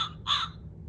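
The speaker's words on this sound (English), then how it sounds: "The crow flaps its wings." A single short crow caw sounds once, close and clear, followed by quiet with a low background hum.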